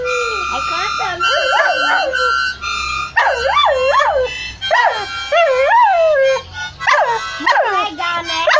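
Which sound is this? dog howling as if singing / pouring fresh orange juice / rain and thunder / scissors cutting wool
dog howling as if singing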